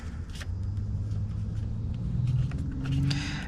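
Car driving, heard from inside the cabin: a steady low engine and road rumble holds throughout, with faint clicks and small shifts in pitch as it moves, and no voices.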